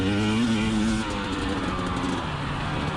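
A KTM 300 XC TPI two-stroke enduro motorcycle rides over dirt and ice, its engine note climbing and then dropping as it shifts up a gear, close and loud throughout.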